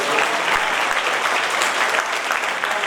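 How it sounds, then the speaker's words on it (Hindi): Dense, steady applause from an audience in an auditorium at a poetry recital, loud and close, continuous clapping throughout with no voices over it. "मुझे आपसे इतनी तालियों की भी उम्मीद नहीं थी जितनी आपने बजाई"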